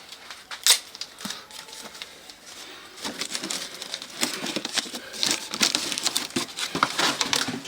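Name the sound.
tape being wrapped around a weight bar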